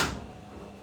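A door opening in a home kitchen, a single short thud and rustle at the start that fades into a low, steady background.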